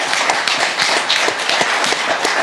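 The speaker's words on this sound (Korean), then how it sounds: "우리 석동현 변호사님께 박수 한번 쳐주십시오" An audience applauds a lawyer at a public gathering. The clapping is dense and steady and continues without a break throughout.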